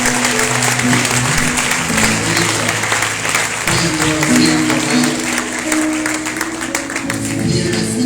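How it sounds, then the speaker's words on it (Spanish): Church congregation applause during a Pentecost service, sustained clapping from many people mixed with sustained musical tones and voices, loud and continuous throughout. "Dale un aplauso al Señor"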